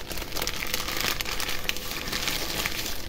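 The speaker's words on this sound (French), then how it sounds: "Ce bruit, une fois que le papier il a été utilisé, il change." Used paper crinkles and rustles continuously, close up, in a dense crackly texture with brief sharper crunches, and no one speaking.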